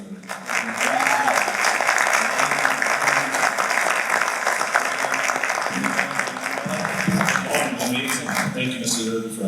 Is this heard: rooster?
no